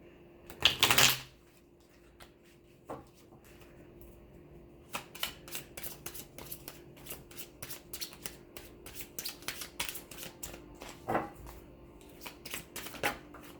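Cards are riffled and shuffled in quick bursts of crisp flicking, with a short pause and then a longer run of rapid clicks, close by.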